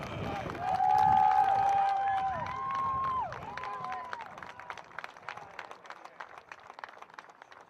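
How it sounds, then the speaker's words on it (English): Spectators at an RPI men's lacrosse senior day game against St. Lawrence break into scattered applause and cheering, with high whistles early and then a steady patter of clapping, a fair distance off and moderately loud. "Please join us one last time in a round of applause for the class of 2024."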